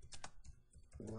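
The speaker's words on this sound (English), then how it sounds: "I'm gonna type" Computer keyboard typing in short bursts of keystrokes, fairly close and soft, with a brief low voice-like sound near the end.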